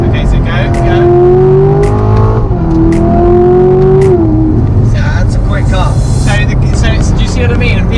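Corvette C7 Grand Sport collectors edition V8 engine pulling hard through the gears with rising, steadily climbing engine pitch and a brief dip at a shift, loud and close throughout with a voice talking over it.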